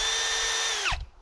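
A cordless power drill used to try starting a heavily oiled two-stroke scrapyard lawnmower engine. It whines loud and steady at high pitch, then winds down sharply as it stops under load.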